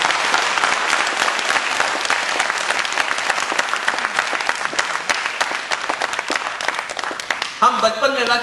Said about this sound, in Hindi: तो जोरदार से तालियां बजाएंगे ध्यान के लिए।